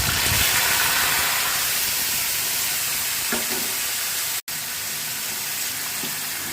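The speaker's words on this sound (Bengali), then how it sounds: "এবার তেলের মধ্যে আমি মাটনটাকে দিয়ে দেবো" Marinated mutton hitting hot oil in a pan, a loud, steady sizzle and hiss of frying that fills the whole stretch close up, with faint stirring touches.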